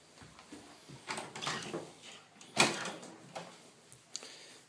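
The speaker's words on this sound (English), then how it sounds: "so open up her door" A bedroom door opens in a quiet home, with a soft latch click and a brief creaking sweep, followed by a few faint knocks and rustles close by.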